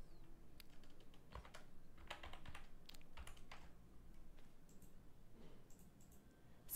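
Keys clatter in steady bursts as code is typed on a computer keyboard for a form validation rule, quiet close-up clicks with short pauses and no voices.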